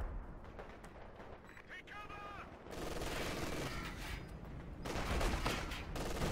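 Heavy battlefield fire in the WWII strategy game Company of Heroes 2, with MG42 machine guns among it: a continuous, dense rattle of shots and blasts that swells louder in the second half.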